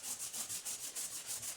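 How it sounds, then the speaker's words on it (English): Bondo body filler on a Foxbody Mustang drift car is block-sanded flat with steady back-and-forth strokes, a rhythmic rasping scrape at close range and no talk. "and I'm just sanding it flat."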